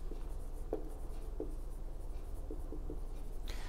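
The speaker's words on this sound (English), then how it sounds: "Let's write this beautiful inequality in set notation." Pen or marker writing maths set notation, a few short scratchy strokes in quick bursts, close and quiet, with no talking.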